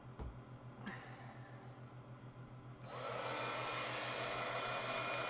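A hair dryer switches on partway through to dry ink on a card, starting with a click and then blowing as a loud, steady whoosh, after a few faint taps and soft handling sounds.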